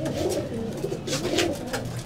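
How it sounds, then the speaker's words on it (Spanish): Resting pigeons coo in a soft, repeated rhythm at close range, with a low murmuring chorus of calls and faint bird chatter in the background. "Ahí están las palomas"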